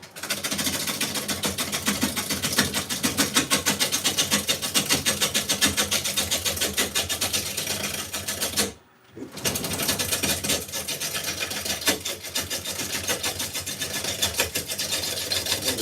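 A wood lathe spins steadily while turning a live edge wooden bowl, giving a continuous close whirring hum with rough scraping texture, broken by one brief pause near the middle before resuming.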